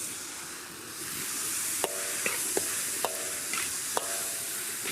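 Peas sizzle and fry in hot ghee (clarified butter) in a pan while being stirred, a steady close crackling hiss with several sharp clinks of a utensil against the pan.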